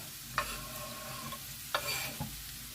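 Onion and carrot fry in a pan, giving a soft continuous sizzle with a few sharp scrapes of a spoon stirring them, close and fairly quiet.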